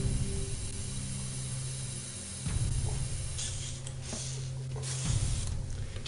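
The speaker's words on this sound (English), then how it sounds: "I put some old paper towel in a old plastic Folgers coffee can. And this is my spray airbrush cleaner." An airbrush sprays into a plastic Folgers coffee can lined with old paper towel, used as a cleaner. The hiss is steady and close, with a few short bursts and pauses, and no talk.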